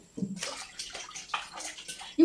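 Water being poured into a cooking pot on a stove, a close splashing stream that runs in uneven bursts, with a brief bright clink at the very end.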